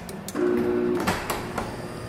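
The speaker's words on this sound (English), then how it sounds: "Let's go and run the door up." A garage door opener motor hums steadily as it runs the door upward, with a few clicks and clunks from the mechanism over roughly two seconds, close by and alone.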